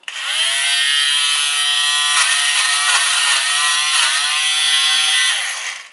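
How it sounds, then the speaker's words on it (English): An electric fabric debobbler whirs steadily at close range as it shaves bobbles from clothing, a high, buzzing motor tone that holds for about five seconds, with slight pitch dips as it presses on the fabric, then cuts off. "So when I slide it on, it's going to be very noisy like a Hoover, but I'm going to show you how you can actually debobble your clothing"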